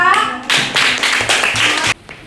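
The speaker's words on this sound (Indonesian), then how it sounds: "kasih tepuk tangan untuk Syifa." A classroom of children claps for a student named Syifa, a short burst of quick overlapping hand claps, close and loud, cutting off abruptly near the end.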